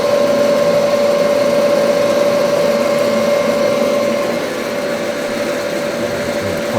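Carbide tool taking a 50-thousandths cut on a metal lathe, a steady loud machining drone with a sharp sustained whine, continuous throughout and easing slightly toward the end.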